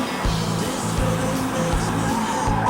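A dual-clutch car is driven hard into corners, its engine droning steadily and loudly from inside the cabin, with a slight pitch rise under load.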